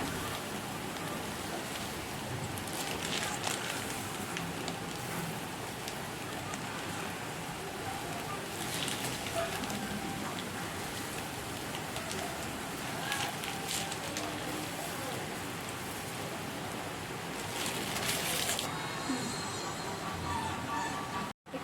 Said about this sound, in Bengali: তেল গরম হয়ে গেছে এবার আমি এগুলো ভেজে নেব একটু